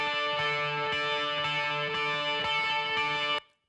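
A distorted electric guitar track taken from a layered mix rings out in sustained, buzzing chords with a steady rhythmic chug, loud and dense, then cuts off abruptly near the end with no talking.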